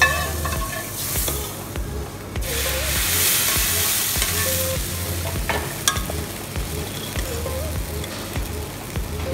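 A loud, steady sizzle of hot tempering poured into Rajasthani kadhi, with stirring clinks and scrapes throughout, no talking.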